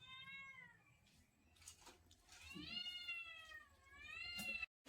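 A domestic cat meows at home, several drawn-out, rising and falling cries close to the microphone with short gaps between them, over a low background hum.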